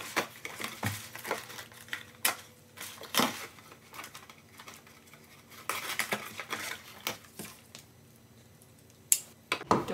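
Scissors snip and crinkle through a plastic bag in irregular bursts, with rustling plastic between the cuts and occasional sharper clicks, close and fairly quiet.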